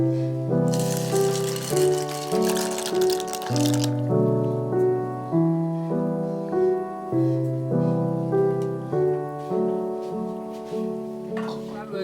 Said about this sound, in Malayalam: ഇതിലേക്ക് നമ്മുടെ മാക്രോണി ഇടാം.